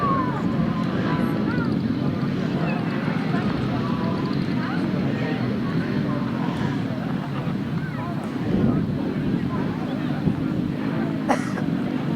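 Grasstrack motorcycles race at a North v South meeting, their engines merging into a continuous, loud, steady roar with faint voices underneath.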